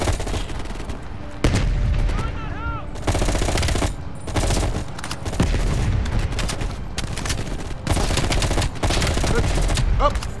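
Bursts of automatic gunfire from the video game Call of Duty Black Ops Cold War, rapid repeated shots in several loud volleys with short pauses between them.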